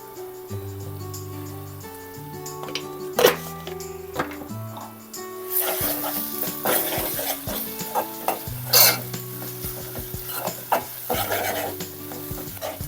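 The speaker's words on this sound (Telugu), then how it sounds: "అల్లం వెల్లుల్లి పేస్ట్ పచ్చివాసన పోయేంత వరకు ఫ్రై చేసుకుందామండి" Ginger garlic paste and turmeric fry in a home kitchen pan for a dried fish tomato curry, with steady sizzling and repeated scraping stirs, a few sharp clinks of the spoon against the pan, and continuous background hum.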